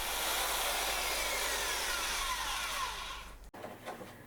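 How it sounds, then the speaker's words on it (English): A belt sander works a wooden strip on a camping catamaran hull, a steady abrasive roar that runs continuously for about three and a half seconds, then cuts off abruptly to quieter handling noise. "This needs to be carefully fitted on all sides, so the belt sander gets handy."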